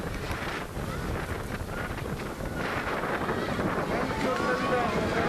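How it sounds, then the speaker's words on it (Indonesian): Strong wind batters earthquake refugee tents in Majene during heavy rain, a loud, continuous roaring rush with gusting surges and flapping, buffeting noise close to the microphone throughout. "Angin sangat kencang, tenda-tenda masyarakat terhak."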